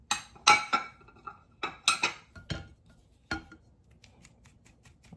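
Spiced flour being sieved through a metal strainer for a Jamaican coconut bulla cake, heard as a series of sharp clinks and taps of the strainer against a bowl, several distinct hits early then fainter tapping.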